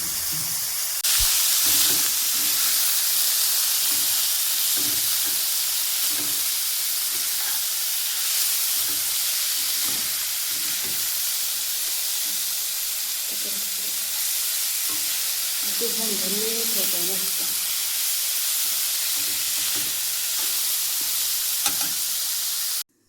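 Finely chopped bitter gourd frying in a pan, a continuous loud hissing sizzle with faint scraping from stirring, close up, lasting throughout with brief low murmurs underneath.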